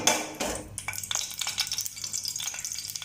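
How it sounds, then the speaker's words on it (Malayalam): Cabbage cubes shallow-fry in a pan over low flame, giving a crackling sizzle with a few clinks and scrapes of a utensil against the cookware and no voices. "നമുക്കിനി ക്യൂബ്സ് ഫ്രൈ ചെയ്തെടുക്കാം."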